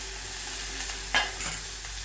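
A spiced brinjal mixture with coriander is sautéed in a pan, giving a steady soft sizzle with a few brief scraping stirs, close and without talk.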